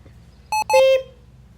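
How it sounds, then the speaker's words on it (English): A checkout scanner beeps close by: two short electronic tones followed by a longer sustained one, clear over a faint background hum. "Beep. Beep. Beep. Beep. Beep. Beep. Beep."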